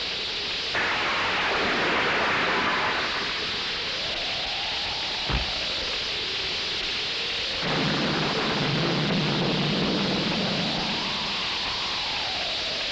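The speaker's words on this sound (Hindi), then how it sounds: "बारिश हो रही है।" Steady heavy rain pours down with rolling thunder, close and loud, continuing without pause throughout.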